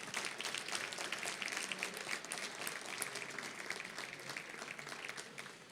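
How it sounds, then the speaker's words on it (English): Sustained applause for the Trailblazers basketball team at a school board of trustees meeting, a steady wash of many hands clapping from a seated audience, moderately distant and fairly quiet throughout, with no talking over it. "A round of applause for the Trailblazers."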